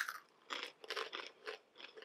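Close, crisp crunching of a rolled yellow corn tortilla chip from a Mexican snack box: repeated bites and chewing in uneven bursts, loud against silence, with no talk.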